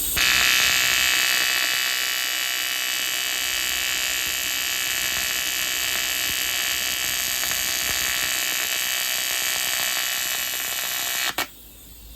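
A TIG welding arc on aluminum, worked by a first-time welder, gives a continuous loud electric buzz with a steady high hum that cuts off abruptly near the end.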